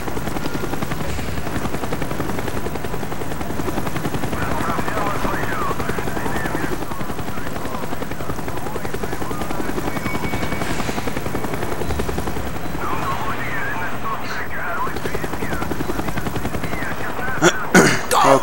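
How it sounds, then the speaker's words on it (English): Helicopter rotor drone from the Call of Duty Black Ops video game, a steady continuous thrum holding at constant loudness beneath game ambience throughout, with a few sharp bursts near the end. "Avoid the helicopter spotlight."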